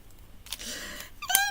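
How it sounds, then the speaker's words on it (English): A pet cat gives a single meow, faint and slightly distant, near the end of a quiet stretch of room noise and soft rustling. "so that's my cat"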